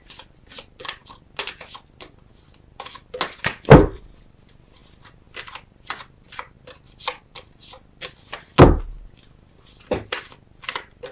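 Tarot cards being shuffled and drawn, a crisp series of riffles, slaps and flicks in irregular bursts, close and fairly loud, with two heavier thumps as cards land; no talk.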